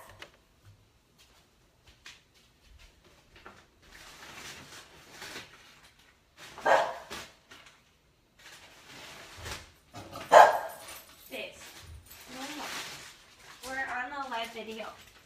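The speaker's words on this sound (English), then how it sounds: "not everybody's wanting to hear the dog" A dog in a home kitchen lets out a few scattered barks, with two sharper, louder bursts, mixed in with ongoing talk and kitchen clatter.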